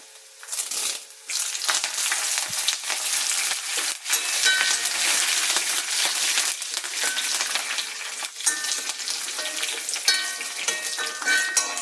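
Curry leaves hit hot oil and burst into a loud, crackling sizzle with sharp spitting pops, staying intense and close throughout.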